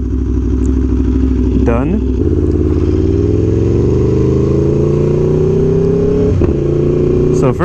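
Aprilia Tuono V4 1100 Factory motorcycle ridden slowly downhill in first gear, its engine loud and close, pitch rising steadily as it accelerates, with a gear change and a brief spoken word.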